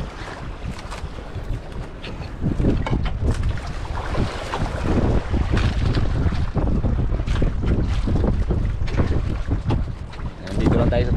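Strong wind buffets the microphone in heavy, gusting rumbles over open water, with the wash of a boat moving through waves.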